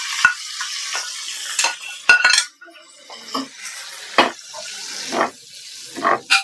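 A spoon scrapes and clanks against a pot while barnyard millet pongal topped with ghee, roasted cashews and pepper-cumin is stirred, giving irregular close knocks and swishes over a faint sizzle.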